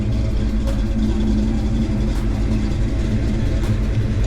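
A cammed 1993 Ford Mustang Cobra with a Trick Flow stage 1 cam idles with a loud, steady, deep rumble and a slightly choppy lope, close by and continuous.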